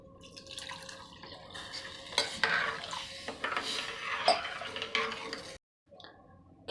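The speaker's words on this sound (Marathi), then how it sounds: "तांदूळ कसा आहे त्याप्रमाणे आपण पाणी घालूया" Water poured into a cooking vessel of rice with salt and coriander for khichdi, a splashing gush with clinks of utensil against pot, close and moderately loud, then stopping abruptly.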